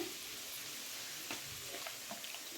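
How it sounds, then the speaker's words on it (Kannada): Soy sauce goes into a hot pan of frying gobi manchurian, giving a soft continuous sizzle with a few small crackling bursts and faint stirring near the end, quiet and close, with no talking. "ಈಗ ಸ್ವಲ್ಪ ಸೋಯಾ ಸಾಸ್ನ ಹಾಕ್ತಾ ಇದ್ದೀನಿ"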